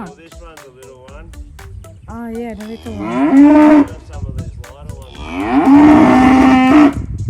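Angus cows, young unbred heifers brought in for weighing, moo loudly and close by in several long, drawn-out calls, with people talking briefly in between.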